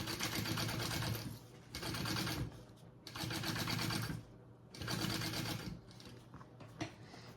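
A sewing machine basting foam for a bag pocket piece, running in four loud, rapid stitching bursts of about a second each with short quiet gaps between them, then a few faint clicks.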